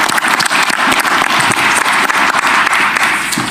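Loud, dense audience applause fills a school board meeting as a student is recognized for pursuing a teaching career, steady clapping throughout with no break.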